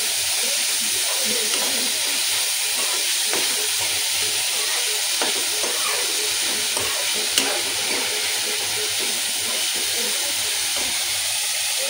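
Fried rice with cabbage and mixed vegetables sizzles and hisses steadily in a hot pan while a utensil stirs and scrapes now and then, the frying loud and constant throughout.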